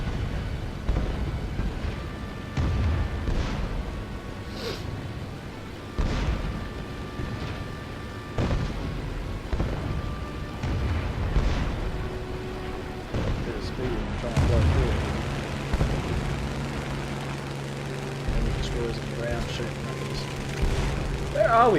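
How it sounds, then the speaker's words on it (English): Ground fire aimed at an aircraft in the War Thunder video game, repeated heavy booms and gunfire bursts over a low engine drone, with someone talking over the action. "We're receiving fire from the ground."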